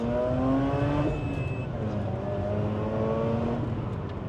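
A Mazda RX-8 accelerates steadily on a public road, its engine note climbing in pitch as it pulls up to the speed limit, loud and close throughout with a brief gear change partway.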